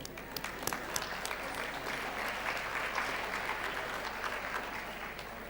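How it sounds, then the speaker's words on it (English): A roomful of teachers at an education technology conference applauds continuously, a thick patter of many hands with sharper individual claps popping out, moderately distant and steady throughout. "I think we deserve a round of applause for that"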